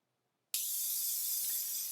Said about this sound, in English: I'm going to spray my tacky spray.